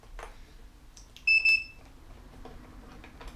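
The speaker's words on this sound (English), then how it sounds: "Got the beep turning on." A short, bright electronic beep sounds twice in quick succession as an electric longboard with a faulty speed controller powers on, amid faint clicks and quiet room noise.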